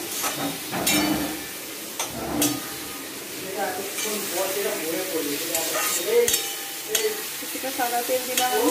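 Chicken is stir-fried in oil in a wok, sizzling continuously while a utensil scrapes and knocks against the pan in irregular strokes, close by.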